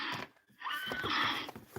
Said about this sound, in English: Listen to the horses.